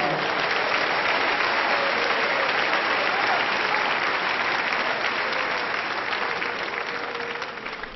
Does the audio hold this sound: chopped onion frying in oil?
no